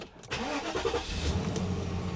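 A Mercedes E420 car engine starts up nearby, a brief crank catching into a steady mid-pitched idle rumble with no talking.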